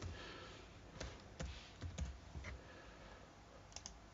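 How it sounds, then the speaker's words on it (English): A username being typed on a computer keyboard at a login screen: a close run of irregular key taps and clicks, alone over a steady background hiss. "So type in your username"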